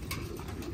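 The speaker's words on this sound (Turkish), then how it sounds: "Burada iki tane taklacı yavrusu var" Young tumbler pigeons coo softly in a loft, a brief low murmuring burble up close.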